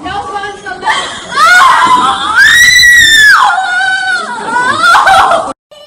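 A teenage girl screams loudly and shrilly in long, rising and falling cries while police officers pin her to the hallway floor of a Houston high school.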